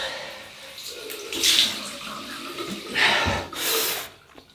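Ice water runs from a tap in a barbershop setting, a close splashing flow that surges in a few bursts as the stream hits the basin.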